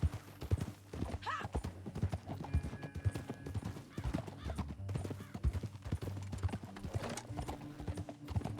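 A horse galloping in the video game Red Dead Redemption 2: rapid, close clip-clop hoofbeats in a steady running rhythm, with a brief whinny early on and faint background sound.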